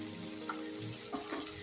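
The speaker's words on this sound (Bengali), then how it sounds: "যে সবজিটা ভাজা ভাজা হয়ে গেছে, পেঁয়াজটা ভাজা হয়ে গেছে" Vegetables and onions sizzle softly in a pan for egg chow mein, a steady, faint frying hiss with a few small pops and spatters, no voices.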